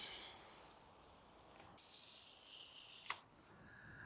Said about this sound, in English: So the best thing you can do is really, really thoroughly water them in.